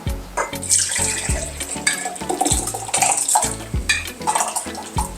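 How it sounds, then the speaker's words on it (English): Rice and water poured together into a container for fermenting rice water, a steady close splashing pour with clinks of grains and vessel running continuously, fairly loud and alone. "I'm going to take our container, and as for me, I pour all of it in there. Rice and everything."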